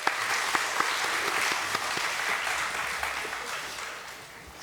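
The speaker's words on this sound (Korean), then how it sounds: "우리 다시 한번 박수하겠습니다." Steady applause from the congregation at a Friday prayer meeting in a church, many hands clapping together at moderate volume, then gradually fading toward the end.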